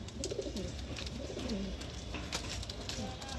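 Madras pigeons coo softly in a loft, their low rolling calls repeating over a dense background hum, with faint chirps and rustles nearby.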